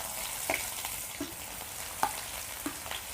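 Small shallots sizzle in hot oil with mustard seeds and urad dal, a quiet, steady fry punctuated by several sharp spoon scrapes and taps against the pan.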